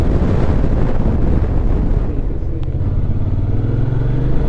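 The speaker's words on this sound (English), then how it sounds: "It's still windy." Constant wind rushing against the microphone, heavy and unbroken, with an engine drone rising gradually underneath.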